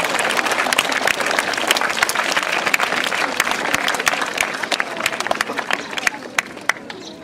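Children applaud at a school year-end ceremony after names are read aloud, a steady, dense burst of clapping filling the room for several seconds and tapering slightly at the end.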